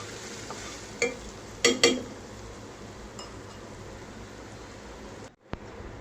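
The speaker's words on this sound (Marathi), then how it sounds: "आपल्याला हिंग पण चांगल्या प्रकारे फोडणीमध्ये परतून घ्यायचा आहे." Asafoetida fries in hot oil for a tempering, heard as a faint steady sizzle with a few sharp clinks of a spoon against the pan.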